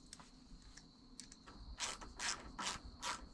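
A socket wrench ratchets on factory 10 mm headlight bolts while installing an RGB halo headlight on a Jeep JL Wrangler, giving several short, close clicking bursts that grow louder toward the end.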